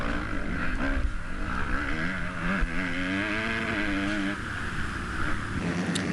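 Motocross bikes race on a dirt track in an Aquitaine league event, engines revving loud and continuous with rising and falling pitch as riders accelerate and pass close by.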